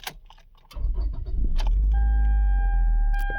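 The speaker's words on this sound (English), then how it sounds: "The car starts and everything" A 2011 Toyota Venza cranks and fires up, settling into a steady idle after a short start, preceded by a jingle of keys; close and fairly loud.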